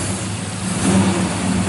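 A 1964 Chevrolet Malibu Chevelle SS with headers and dual exhaust runs with a deep, steady rumble close by, swelling briefly as it is revved.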